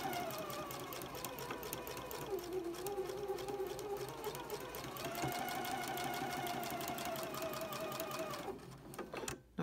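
A sewing machine runs continuously for nearly ten seconds while stitching a Courthouse Steps log cabin quilt block, its fast, even whir loud and close before it stops with a few clicks at the end.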